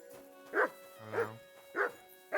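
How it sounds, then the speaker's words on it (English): In a video game, a dog gives four evenly spaced barks, close and clear over a quiet background. "What are you barking for?"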